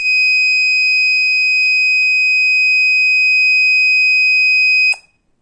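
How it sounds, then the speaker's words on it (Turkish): A loud, piercing electronic alarm buzzer from an Arduino fire and gas detector sounds as one continuous steady tone for about five seconds, then cuts off abruptly into silence. "Buzzer alarm verdi ve solenoid vanayı kapattı."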